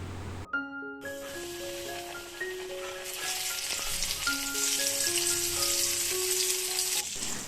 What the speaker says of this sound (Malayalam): എന്നിട്ട് ചൂടായ എണ്ണയിലോട്ട് നമുക്ക് ഇട്ട് കൊടുക്കാം